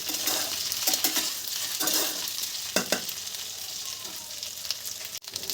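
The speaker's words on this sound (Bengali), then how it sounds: "আলুর সাথে বেগুনটাও 1 মিনিটের মতন একটু ভেজে নেব।" Potato and eggplant frying in a pan for a Bengali alu begun bori curry, a steady close sizzle with occasional scraping stirs and light utensil clinks.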